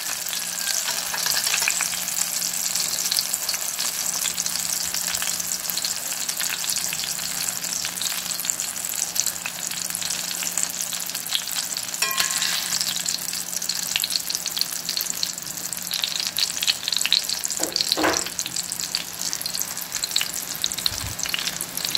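Eggplant omelette (tortang talong) fries in a pan on a lowered flame in Palau, a steady close sizzle with occasional scrapes and clinks of a utensil, and no one talking.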